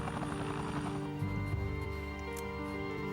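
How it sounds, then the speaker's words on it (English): A rescue helicopter lifting injured climbers from a mountain keeps up a loud, steady rotor drone with a faint pulsing chop, close, with no talk. "a helicopter returned to collect the third injured climber"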